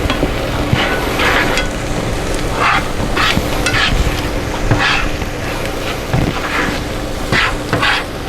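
Egg whites cooking in a pan, a continuous soft sizzle under the clatter of a utensil scraping and stirring, with sharper scrape bursts at intervals.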